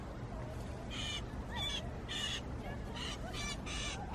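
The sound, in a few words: bird calling from its nest in park trees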